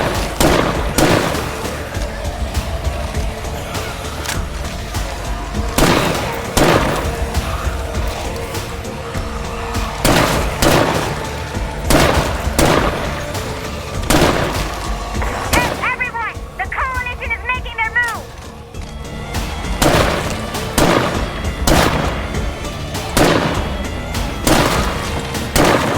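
Gunfire in State of Decay 2 crackles in repeated sharp bursts, loud and close, spaced irregularly over a rumbling background, with a short pause near the middle.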